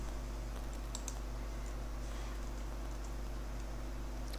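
A value goes in on a computer keyboard as a few light, close key clicks over a steady low electrical hum, with no one speaking.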